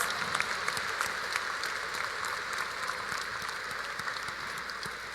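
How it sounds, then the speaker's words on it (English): Sustained warm applause from a large audience at a lawyers' oath-taking and roll signing ceremony, even dense clapping heard from a distance without talk. "Let us all give our new lawyers a warm round of applause."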